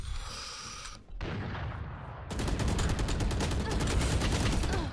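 Gunfire in a first-person shooter video game: a brief pause, then sustained rapid shots crackling loudly and continuously over a heavy rumbling bed of battle noise.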